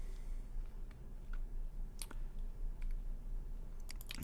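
Computer mouse clicking on screen while working in document software, a few sharp isolated clicks spaced unevenly over a quiet steady room hiss, close and crisp.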